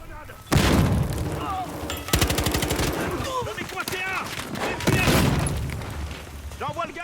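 Gunfire bursts and grenade blasts in a Battlefield Hardline multiplayer match, loud repeated rapid shots with booming explosions across the clip, while a player keeps talking over the action.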